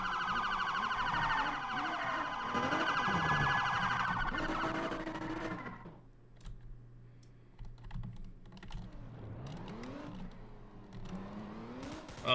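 A police car siren in a video game wails loudly with rising and falling tones for about six seconds, then fades, leaving faint rumbling and steady keyboard clicking, with the wail briefly returning near the end.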